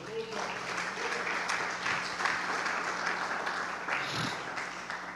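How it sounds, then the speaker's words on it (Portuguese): A church congregation claps together in a steady, moderately loud wash of applause, with faint voices mixed in underneath. "Aplauda o Senhor."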